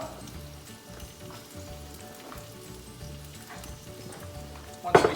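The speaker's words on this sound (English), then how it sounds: "Once we saute out that a little bit, don't brown it, just saute it a little." Minced garlic cloves sautéing in a little oil in a pan give a steady, soft sizzle throughout, ending with a brief louder clatter.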